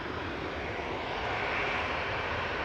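A heavy TUI airliner departing Manchester Airport, its engines giving a loud, broad, steady roar that swells slightly, close and continuous with no talking.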